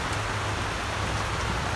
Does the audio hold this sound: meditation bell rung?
no